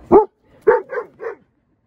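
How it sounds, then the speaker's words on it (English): Several dogs on leashes bark outdoors, one sharp bark followed by a quick run of three close, loud barks, then quiet. "I have three dogs on leashes."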